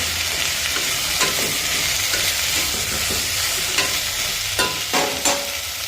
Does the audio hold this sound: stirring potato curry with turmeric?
yes